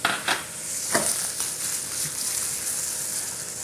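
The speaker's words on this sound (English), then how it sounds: "We're going to saute the ham in the pan." Diced ham sautéing in a pan for an omelet, a steady close sizzle with a few stirring knocks early on, no talking.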